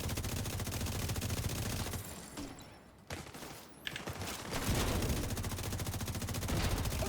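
Grenadiers in a video game unleash sustained automatic fire: loud, rapid machine-gun bursts dip briefly, then return in a steady stream of overlapping shots.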